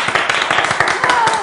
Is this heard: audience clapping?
yes